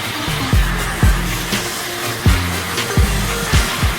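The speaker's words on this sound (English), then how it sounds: "I'm using an orbital sander with a vacuum." An orbital sander hooked to a vacuum runs on wood for a blanket ladder build with 120 to 220 grit paper, a steady loud whirring drone with rhythmic bumps and pitch dips as the tool shifts across the board.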